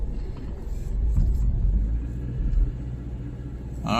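A car engine idles and warms up in snowy winter weather, giving a steady low rumble that swells slightly midway, continuous and fairly close, with no one speaking.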